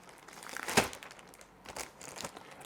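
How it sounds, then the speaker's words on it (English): A plastic sandwich bag holding a phone crinkles and rustles close by, with one sharper crunch early on followed by softer intermittent crackles, quiet overall and without speech. "A sandwich bag."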